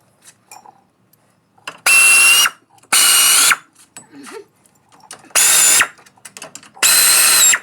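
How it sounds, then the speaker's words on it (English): An air ratchet whirs in four loud, even bursts of about a second each, close up, while working on a wheel bearing of a 2012 Toyota RAV4, with brief quiet gaps and faint shop clatter between. "this ratchet allows me to run it up a little slower and a little more evenly"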